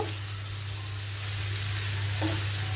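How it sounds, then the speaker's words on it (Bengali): Taro stolons with potatoes and spices are stirred in a hot pan, sizzling steadily and close, with a soft scrape of the spoon and a low background hum. "এখানে ধুয়ে রাখা লতিগুলো আমি দিয়ে দিলাম ভালো করে একটু মিক্স করে নেবো"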